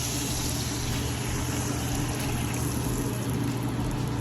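Water pours steadily into a cooking pot for Jamaican pork chops, making a continuous, even rush with no breaks.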